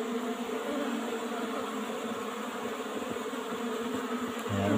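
Apis cerana bees swarm around an old-style wooden box hive during a honey harvest. A thick, continuous buzz of many insects hums close and steady throughout, with no voices.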